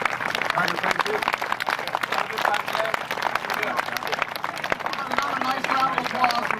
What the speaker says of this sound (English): Another nice round of applause for Butch Harmon and Tiger Woods.